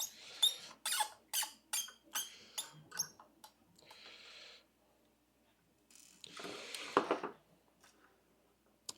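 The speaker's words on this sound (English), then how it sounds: "undo the screws as you're going by" A NateChrony unit has its screws undone and driven back in. Rapid series of close ratcheting clicks and squeaks from a screwdriver come in short bursts with pauses between them.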